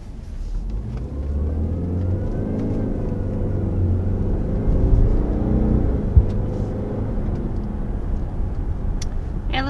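A 2023 Subaru Ascent's engine drones and swells as the SUV accelerates, heard from inside the cabin as a steady, fairly loud rumble with a rising whir and no talking.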